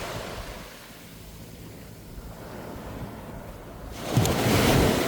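Surf washing onto a beach in Phetchaburi, Thailand, a steady roar of breaking waves with wind buffeting the microphone, swelling louder near the end.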